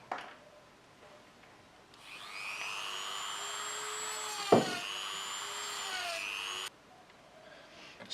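A power tool cuts through a 3mm piece of perspex with a steady high whine lasting several seconds, a brief sharp knock midway, then it stops abruptly.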